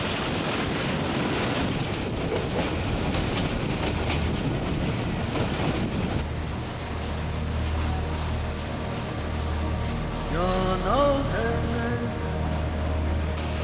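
A passenger train runs from Dhaka toward Sylhet, heard from inside as a steady rumble and rattle of the carriages, with a rising wheel squeal near the end and no speech.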